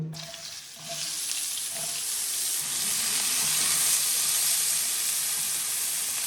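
Eggplant pieces frying in hot oil, a steady bright sizzle that swells after the first second and holds loud and close throughout, with no voices.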